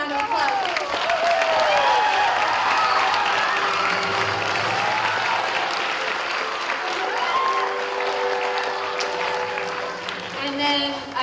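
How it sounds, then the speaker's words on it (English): Audience at a Peter Pan stage performance gives a sustained round of applause with scattered cheers, loud and steady for about ten seconds, with voices mixed in over the clapping. "So let's give them another round of applause."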